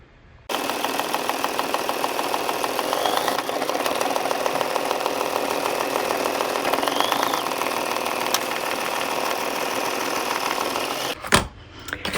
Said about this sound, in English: I'm going to return to my machine, and as it's stitching